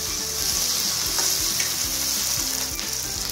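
Potatoes and curry leaves fry in a pan with a steady, close, dense sizzle that holds evenly throughout, with no voices.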